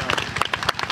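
A crowd at a Tharu community gathering claps in a dense, steady burst of applause heard close and loud.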